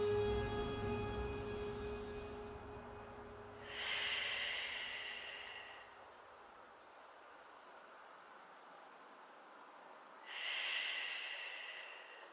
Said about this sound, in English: Gonna breathe here 2 more breaths